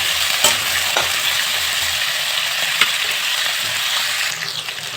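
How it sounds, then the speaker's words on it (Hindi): Potatoes frying in oil in a pan, a constant close sizzle broken by a few sharp clicks and scrapes of a stirring spoon, with no speech. "अच्छा से पहले आलू को फ्राई कर लिया।"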